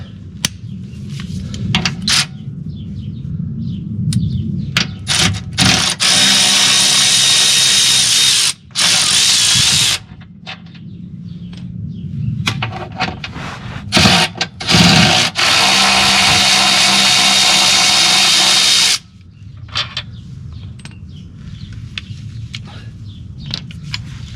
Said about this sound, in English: So we're going to take these bolts out.